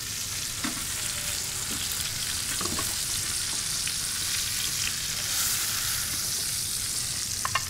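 A steak sears in a hot pan with a loud, dense, unbroken sizzle and crackle, with occasional faint spatters rising out of the steady hiss.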